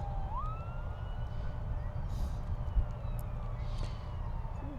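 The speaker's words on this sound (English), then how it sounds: "You can hear the ambulance, and that is the ambulance." An ambulance siren wails in the distance across a London suburb, rising and falling faintly over a steady low rumble of wind and traffic.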